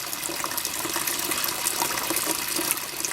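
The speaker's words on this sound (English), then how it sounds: "Okay, so that emptied the sump there pretty quick." Water pumped out of a greenhouse grow bag sump rushes and splashes in a steady, continuous gush, fairly close and alone.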